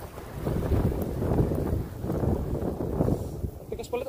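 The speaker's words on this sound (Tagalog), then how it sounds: "Lakas ng hangin." Strong wind gusting and buffeting the microphone outdoors while a kite is being flown, a steady loud roar that swells and eases across the whole stretch.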